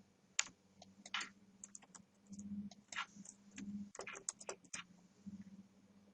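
Someone types values on a computer keyboard, with quick, irregular key clicks in short bursts and a few louder taps, close and fairly quiet.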